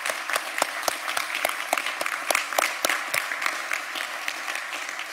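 An audience applauds steadily after a speech at an anniversary event, with many overlapping claps close and loud throughout, no voices on top.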